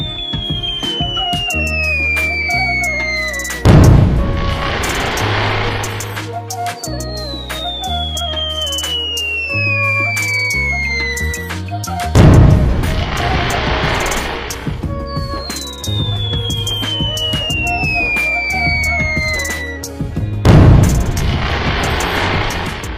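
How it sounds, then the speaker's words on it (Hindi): A cartoon nine-shot sky shot firework goes off at a Diwali celebration: falling whistles are each followed by a loud, crackling burst, repeating about three times over a steady musical backing. "सबसे पहले चुन्नी एक 9 शॉट्स वाला स्काई शॉट जलाता"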